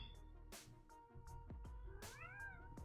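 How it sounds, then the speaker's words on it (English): A house cat meowing indoors, several short close cries with rising and falling pitch spread across a few seconds, quiet overall. "Oh snap, cat's back."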